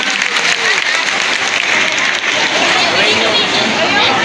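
A large crowd at a Bhaguda religious gathering at the Mogal Dham shrine claps loudly and continuously, dense applause filling the whole stretch with some crowd noise mixed in.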